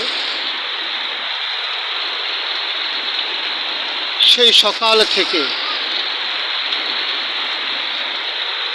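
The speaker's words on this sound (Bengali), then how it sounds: "তুমুল বৃষ্টি চলছে" Heavy rain pours down in a dense, unbroken hiss, loud and constant throughout, while someone briefly speaks a few words midway over the downpour.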